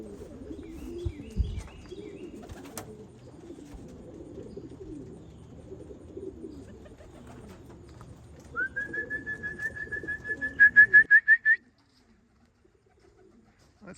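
Racing pigeons and a feral pigeon coo in low, rolling murmurs near a loft, followed by a rising whistle-like call and a short burst of loud repeated notes before sudden quiet.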